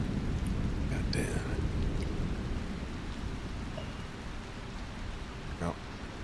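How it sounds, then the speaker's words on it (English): A thunderstorm sound effect, with heavy, steady rain and low rumbling thunder filling the whole stretch, plus a few sharper crackles near the start. "Thunder gets louder"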